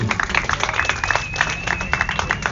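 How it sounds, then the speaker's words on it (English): A ceremony crowd at the Vito DeRenzis charity game applauds Ryan Griffo and Matt Pravosti: distinct, fairly sparse claps in an uneven rhythm, heard through a thin, band-limited sound with a faint tonal whine underneath. "a big round of applause to Ryan Griffo and Matt Pravosti"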